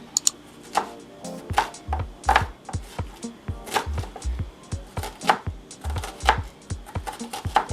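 Half an onion being minced with a knife on a board, a steady run of sharp, close chopping strikes in quick irregular rhythm, loud and without talk.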